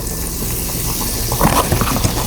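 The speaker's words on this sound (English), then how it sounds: "just want to melt that butter up there" Butter melting in a hot pan on a barbecue cook, giving a steady soft sizzle and bubbling with a few louder pops and crackles near the end.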